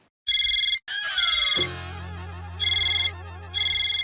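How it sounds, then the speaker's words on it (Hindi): A mobile phone ringtone rings in bursts of bright repeating electronic tones, starting and stopping several times, with a short swooping musical flourish in between; loud and near, no speech. "आपका ही फोन बज रहा है।"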